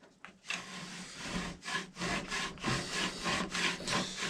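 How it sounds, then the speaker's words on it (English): Wooden ramrod being worked back and forth in its channel, scraping against the top as chips come off, a steady, close rasping rub in repeated strokes, with no talking. "when it goes in the channel, it scrapes against the top"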